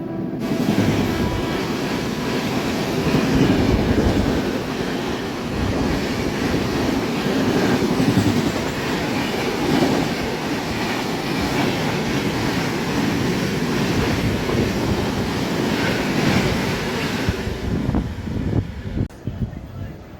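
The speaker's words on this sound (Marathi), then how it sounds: "WP7 लोकोमोटिव्ह सोबत येत आहे हजूर साहेब नांदेड अमृतसर सचखंड एक्सप्रेस क्रॉसिंग" Hazur Sahib Nanded–Amritsar Sachkhand Express hauled by a WP7 locomotive crossing the Tapovan Express in rain, a loud, close, continuous rush of passing carriages and wheel rattle that fades out near the end, with a voice speaking faintly.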